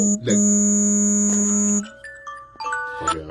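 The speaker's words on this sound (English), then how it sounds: "my alarm just going out" An alarm going off, a loud sustained electronic buzz tone that holds for under two seconds and then stops, followed by quieter shifting beeps and tones.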